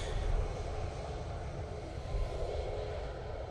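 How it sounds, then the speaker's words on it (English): A Boeing 737 MAX 8 airliner at Manchester Airport produces a steady, broad engine roar that stays fairly loud and constant throughout, with no talking. "Who's in there? 737 MAX 8."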